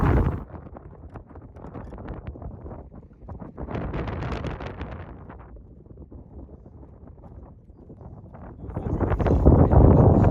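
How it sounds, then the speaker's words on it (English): Steady, rough wind buffeting the microphone, swelling louder in the middle and again near the end, with no voices. "It's now here, and it is windy."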